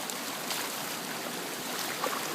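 Swollen ditch of flood water pouring off a canyon during a major flood, a steady broadband rushing and gurgling flow heard close by, continuous and unbroken with no talk.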